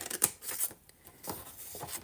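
Scissors snip cardstock along a score line in several quick, crisp cuts close up, with short pauses between the blade closes.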